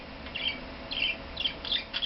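A budgie vocalizes in a short run of soft, high chirps and warbles, close by and fairly quiet over a low steady background hum, with no speech.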